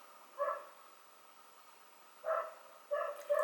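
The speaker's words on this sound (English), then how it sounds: "we're just going to fight through the dog barking" A dog barks three times at moderate distance in a quiet room: one bark, a pause of nearly two seconds, then two more barks close together, with no voices.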